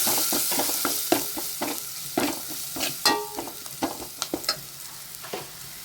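Kashmiri chilli powder being stirred into frying shallots and curry leaves for a fish curry, a soft sizzle broken by repeated scraping strokes and clicks of a spoon against the pan, close and rhythmic.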